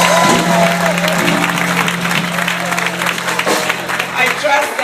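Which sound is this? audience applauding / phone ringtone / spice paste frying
audience applauding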